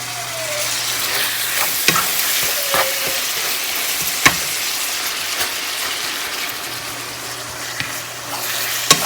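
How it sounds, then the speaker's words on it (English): Chili ingredients sizzle in a pan over medium-high heat, a constant close frying hiss broken by sharp scrapes and clacks of stirring. "So I'm just getting that all stirred around, chopped up."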